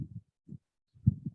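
A low, muffled heartbeat sound effect in a guided meditation, its soft thumps arriving in short irregular pairs, faint and isolated with silence between them.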